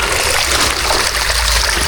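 Water running steadily through an irrigation canal in an open area planted with fruit-bearing trees, a continuous broadband rushing and trickling wash that stays loud and close with no talk over it.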